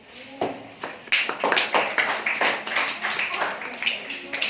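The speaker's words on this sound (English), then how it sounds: "Claps everyone." A small group claps together in quick, uneven rhythm, a few seconds of applause like a classroom responding.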